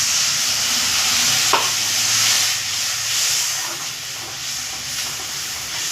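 Spices for fish head curry sautéing in a pan, a steady close sizzle and hiss with faint stirring scrapes, continuous and without talk.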